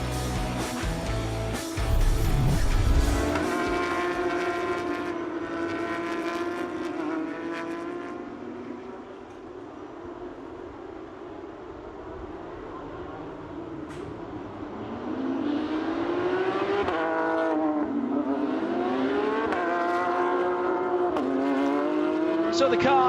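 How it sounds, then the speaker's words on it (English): Porsche Carrera Cup race cars on a warm-up lap at Watkins Glen, engines rising and falling in pitch as they pass, one car roaring up close before others sweep by at a distance. "So the cars on their warm-up lap for the second time this weekend."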